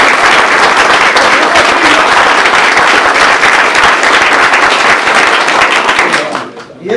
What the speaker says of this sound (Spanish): Un aplauso que ya.